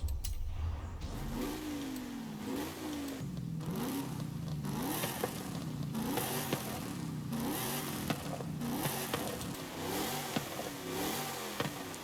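A stock Shelby GT500 in Forza Horizon 5 revs repeatedly, the engine note climbing and falling in quick pulls over a steady road-like rumble, loud and up front with no voices.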